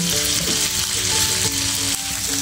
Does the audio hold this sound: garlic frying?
yes